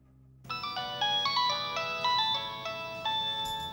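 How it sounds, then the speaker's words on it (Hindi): A telephone ringtone for an incoming call, a bright melodic electronic tune that starts abruptly and plays on loudly and steadily with no talk over it. "उन्हीं का ही फोन है"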